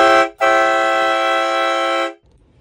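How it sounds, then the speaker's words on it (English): A battery-powered Ryobi quintuple train horn blasts loud and close in a rich multi-tone chord, a short toot followed by a sustained blast of about two seconds that cuts off abruptly. "Here's the Ryobi quintuple horn."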